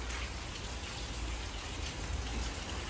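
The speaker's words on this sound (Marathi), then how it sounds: "पण चांगलं चालू आहे पाऊस" Steady rain falls through the morning, a dense, even hiss of drops on surfaces with a low rumble underneath, moderately loud and continuous with no voices.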